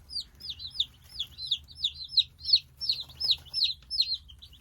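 Young chicks from Cackle Hatchery chirp in a shipping box, their high peeps close and repeated in quick succession, several overlapping in a lively rhythm.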